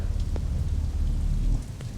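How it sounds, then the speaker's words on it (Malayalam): Heavy rain falls outside as a steady, dense wash of rain noise with a low rumble underneath, continuous across the whole stretch with no voices. "പുറത്ത് ഇത്രയും വലിയ മഴ ഉണ്ടായിട്ടും എങ്ങനെ ഇവിടെ നനയാതെ എത്തി?"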